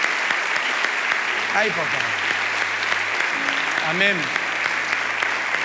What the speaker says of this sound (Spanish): Un aplauso a esas 3 personas que vienen.